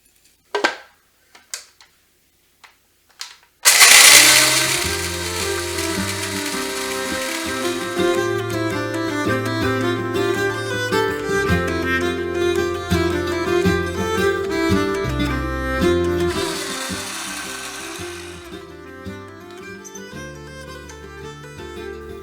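An electric grinder whirs loudly and steadily after a few soft knocks, grinding a spice mix that includes long peppers for a medieval pork marinade, its motor running continuously for nearly twenty seconds before easing off slightly.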